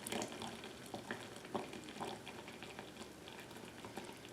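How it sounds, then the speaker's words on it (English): Hot water poured from a gooseneck kettle into a French press of coffee grounds, a faint steady bubbling trickle with soft patter, no voices. "So I'm going to continue pouring."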